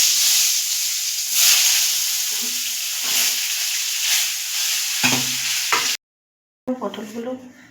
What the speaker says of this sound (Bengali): কড়াইতে তেল গরম হয়ে গেছে, এবার মিডিয়াম আঁচে দিয়ে এগুলো আমি ভেজে নেব।